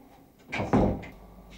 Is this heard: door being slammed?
yes